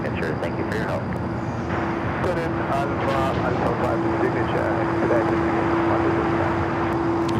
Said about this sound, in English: Iberia heading to the north side for takeoff.